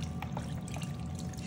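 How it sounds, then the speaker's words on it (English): Beef broth pours over rice in a cooking pan for a Mexican dinner, making a soft, steady trickle with a few faint drips, quiet and close. "we're gonna add some beef broth because this rice is gonna need liquid to cook. I'm just gonna pour this all around"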